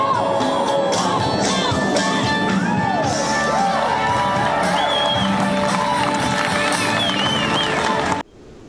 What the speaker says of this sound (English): giving a standing ovation for the final encore